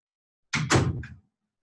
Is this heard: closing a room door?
yes